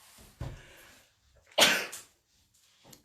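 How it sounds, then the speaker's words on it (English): Two sneezes burst out indoors at a craft table, a short one followed by a louder, sharper one with a breathy gasp before it, then near silence. "I guess I did have to sneeze."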